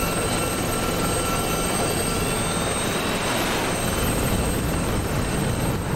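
Gazelle helicopter in the DCS flight simulator, a steady broadband rotor and turbine roar filling the whole stretch at constant loudness, with a faint high whine above and no talk.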